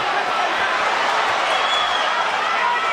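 Steady roar of a boxing arena crowd during a Manny Pacquiao fight, a dense, loud wash of cheering and murmuring with no distinct breaks.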